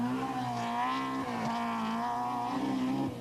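A Tipperary Crystal BMW rally car drives at speed on the 1991 Circuit of Ireland Rally, its engine holding a loud, steady, high-revving note with a few short dips and recoveries in pitch.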